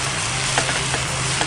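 Salmon and shrimp sizzle while being sautéed outdoors, a loud, continuous crackling fry close up with a few sharper pops and stirring scrapes.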